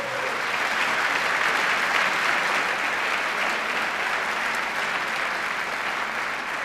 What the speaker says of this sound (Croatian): molim vas jedan aplauz za mog prijatelja